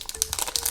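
A plastic surprise packet holding a Moji Pops toy crinkles briefly as it is handled and opened, a short burst of close, crackly rustling.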